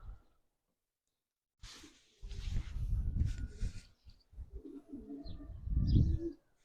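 A male pigeon coos at close range in a few soft, throaty bursts, the low rolling calls rising and falling with brief gaps and faint background rustle between them.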